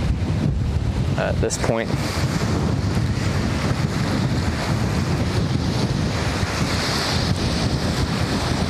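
Constant wind buffets the microphone outdoors, a loud low rumble that never lets up, with a brief spoken phrase partly buried beneath it.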